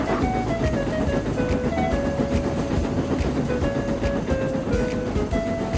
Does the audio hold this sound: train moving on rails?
yes